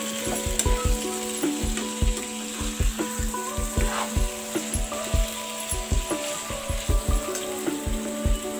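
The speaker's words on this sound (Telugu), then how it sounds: "చికెన్ వేసుకొని బాగా కలుపుకోవాలి." Chicken pieces sizzle in a hot pan while being stirred, a steady frying hiss broken by quick rhythmic scraping knocks of the spoon against the pan, close and loud, with no talking.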